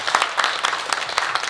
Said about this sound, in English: Let's all give it a round of applause.